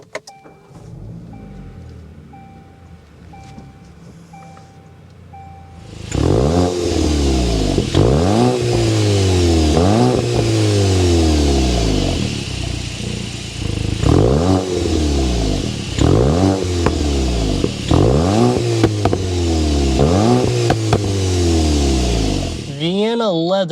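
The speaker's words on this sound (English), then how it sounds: "We need to go inside and start it up so you can hear that exhaust note." A 2024 VW Golf GTI 380 Autobahn starts up after a quiet interior moment, its engine settling into idle and then revving repeatedly in sharp, rising bursts with a loud, close exhaust note.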